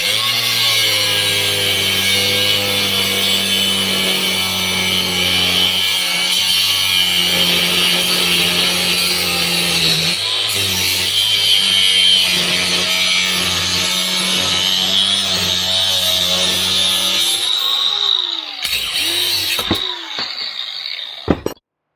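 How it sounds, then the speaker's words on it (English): A power drill bores bolt holes through a steel exhaust gasket piece, a steady loud grinding whine with a constant motor hum that continues for most of the time before winding down with a few clatters. "now I'm drilling the other two holes for the bolts"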